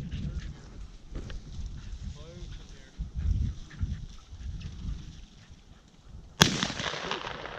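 A single sharp shotgun blast rings out near the end during a quail hunt with English Cocker Spaniels, loud and abrupt after a stretch of wind and scattered talk from the hunters.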